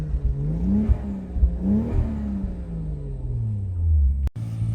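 A Toyota Mk3 Supra with a 1JZGTE engine runs steadily and close by, its low rumble swelling in a few revs before a brief cutout and a return to a steady hum.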